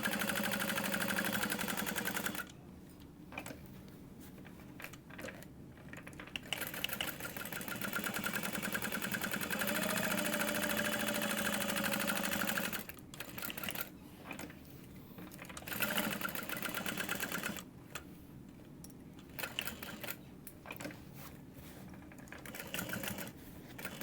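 Home sewing machine stitching quilted fabric for a trick-or-treat bag, a steady close mechanical whir in long continuous runs with brief pauses between bursts of stitching.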